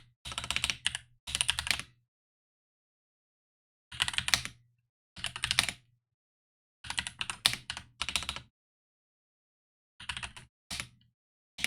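Bursts of rapid computer-keyboard typing during a web word game, clicky keystrokes arriving in several short clusters separated by pauses, close and fairly quiet, with no talking.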